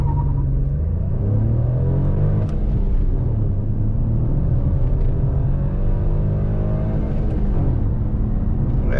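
A 2020 Fiat Argo Drive with a 1.0 three-cylinder engine revs hard toward its rev limiter, a loud, close, rising drone that climbs, holds and drops back in repeated pulls, with no voices.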